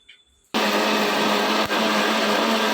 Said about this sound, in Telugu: మిక్సీ తిరుగుతూ ఉంది